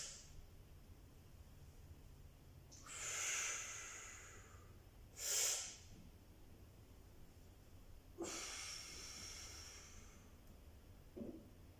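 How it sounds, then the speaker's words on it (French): Several slow, deep breaths during an exercise session, each a soft airy inhalation or exhalation, with longer breathy swells separated by quiet pauses over a faint background hiss. "Là, nous allons prendre une inspiration."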